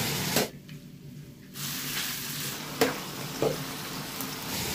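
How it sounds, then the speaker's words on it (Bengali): Dried chilies sizzle steadily in hot oil in a pan over a stove in a bachelor's kitchen in Saudi Arabia, with a brief lull, a couple of sharp clicks and spatters, all close and moderately loud with no talking. "আগুন জ্বালিয়ে দিছি, এখন তেল দিয়ে দিচ্ছি। মরিচ দিয়ে দিলাম"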